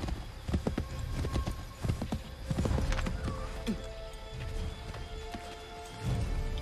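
Rapid rhythmic hoof clops of a galloping horse in the video game Assassin's Creed 3, steady and fairly loud, with a brief whinny amid the running.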